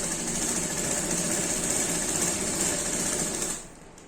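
A sewing machine runs steadily while stitching the collar of a kurti, a close, even mechanical whir that stops abruptly near the end.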